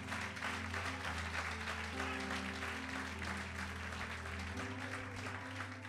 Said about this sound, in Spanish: Aplaude a Dios, aplaude.